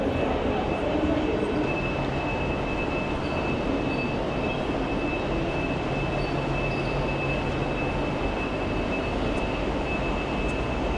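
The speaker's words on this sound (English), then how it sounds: "I'm on the 9:30 train to York" Steady rumbling and rattling from inside a moving train carriage on a trip to York, a constant roar with a faint high whine running throughout.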